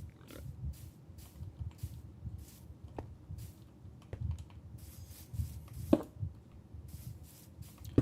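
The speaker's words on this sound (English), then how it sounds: "the clicks are probably from either my keyboard or me clicking" A computer keyboard and mouse click quietly and intermittently, soft irregular taps and clicks spaced a second or so apart over a low background hum, recorded close but faint.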